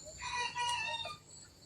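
A rooster crows faintly from a distance in an open harvested field where chickens, ducks and pigeons are feeding, giving a single short, drawn-out call over quiet outdoor background.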